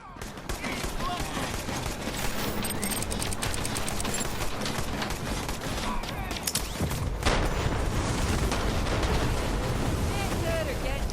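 Grenade blasts and gunfire from Moze's build in the Borderlands 3 video game crash in a dense, continuous barrage for the whole stretch, loud and relentless, with a voice present in the mix.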